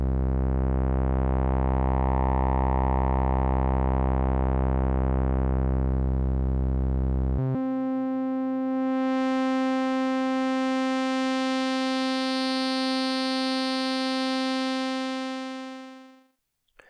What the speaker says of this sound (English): It boosts the frequencies around the cutoff point and can make a whistling type sound when it's maxed out.